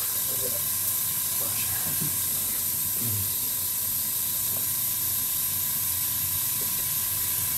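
Airbrush spraying whitewash camouflage paint onto a model, a continuous close hiss that runs throughout, with faint clicks and a voice murmuring underneath.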